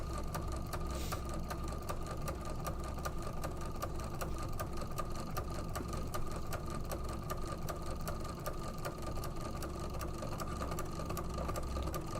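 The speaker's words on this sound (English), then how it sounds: "as I'm quilting it, I'm spreading the fabric out with my hands to make sure it's nice and taut as it goes under the needle" Sewing machine quilting fabric, running in a fast, steady, even mechanical stitching rhythm throughout at moderate, consistent loudness with no talking.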